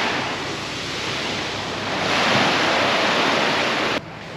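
Surf washes onto Elia Beach on Mykonos, a broad steady rush that swells midway and then drops abruptly near the end, with some wind noise.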